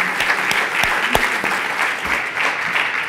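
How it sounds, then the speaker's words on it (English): Audience applause at a talk on PTSI, physical health and nature, a steady wash of clapping with a few sharper individual claps standing out nearby. "I just want to give a round of applause to the prior speakers"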